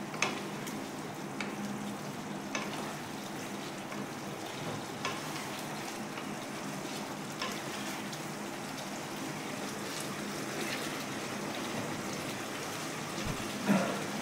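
Alur dom, a potato curry, simmering in a pan as garam masala powder is stirred in; a soft, continuous bubbling sizzle with occasional light scrapes of the spoon, fairly quiet and steady.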